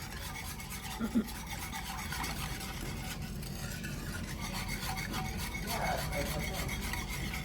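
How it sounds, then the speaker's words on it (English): Lemon meringue pie filling is stirred steadily in a pot as it thickens, giving a continuous soft rubbing and scraping. Two small knocks of the spoon come early, and a low hum runs underneath. "We need to continue to stir this until it thickens up"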